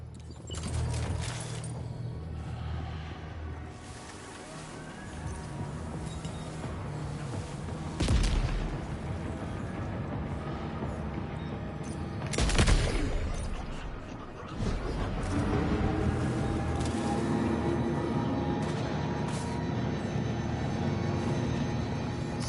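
Loud sniper rifle shots in the video game Death Stranding 2, two heavy booming reports standing out over a dense, rumbling battle soundscape of engines and distant fire.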